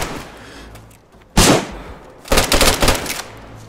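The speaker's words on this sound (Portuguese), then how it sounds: "Dei dois tiros nele de repeater, velho." Repeater rifle gunshots in the DayZ video game: a loud sharp crack, then a second burst of booming reports about a second later, with quiet game ambience between them.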